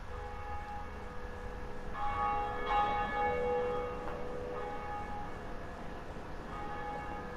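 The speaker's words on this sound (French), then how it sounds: "il fallait faire sonner les 2 cloches" Church bells tolling in Dark Souls Remastered: several clear, sustained metallic rings that swell near the middle and then decay, over a steady low game ambience with no talk.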